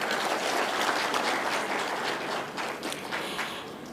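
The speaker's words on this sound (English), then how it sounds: "Kindly give them a hand clap." Audience applause at the closing of a devolution conference, a dense, even patter of many hands clapping that holds steady and thins slightly toward the end, with no voices over it.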